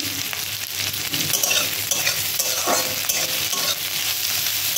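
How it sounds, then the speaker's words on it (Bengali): Spices sizzling and frying in a pan while being stirred, a dense continuous crackle with scraping of the utensil, close and steady throughout, no voices. "দিয়ে আবার নাড়াচাড়া শুরু করলাম। দেখুন এবার মশলাটা ভাজা ভাজা হয়ে আসছে।"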